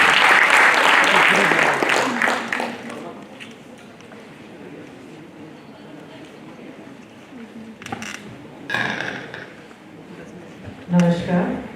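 Audience applause at a youth parliament event at Hansraj College as the college principal is welcomed to the stage, loud and dense for about three seconds, then fading into a quieter room with scattered voices and a brief speaking voice near the end.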